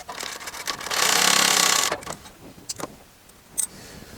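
Walking foot sewing machine stitching upholstery, a short loud whirring run of about a second, followed by quieter clicks and handling noises.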